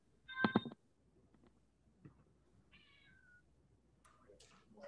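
A cat gives a short, loud meow, followed after a pause by a second, softer meow and faint scattered clicks over a quiet background.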